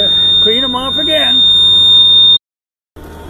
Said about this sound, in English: Kill the alarm.